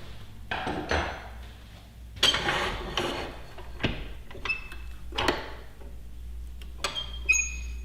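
Metal bar turning and clanking in a woodturning lathe chuck, a series of irregular metallic knocks, rattles and ratcheting clicks heard close up over a low hum.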